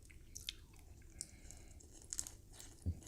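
Someone close by chews crunchy shrimp with antenna and shell, soft wet crunches and squishy bites scattered unevenly, with a louder crunch near the end.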